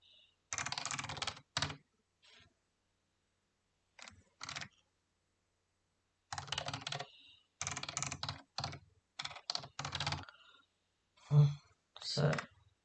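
Keyboard typing while writing test code, irregular bursts of rapid clacking keystrokes separated by silent pauses, close and clear.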